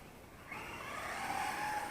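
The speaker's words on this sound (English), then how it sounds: "It's wanting to peel out. It's just so fast on that wet pavement." A ZD Racing 9106 1/10-scale 4WD brushless R/C monster truck runs fast on wet pavement, its motor whining as it rises steadily to a faint high-pitched tone over hissing tire spray, heard from a moderate distance.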